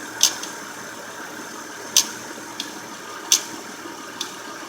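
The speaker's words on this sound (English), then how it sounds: "we're gonna start the car, and so the engine is running." A car engine runs with a steady, even idle hum in the background, while sharp metallic clicks or ticks recur about every one and a half seconds over it.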